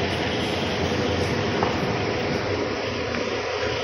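A passenger train in Perth, Australia, rumbling along as a dense, steady roar with hiss and rattle, heard from close by without break and with no voices over it.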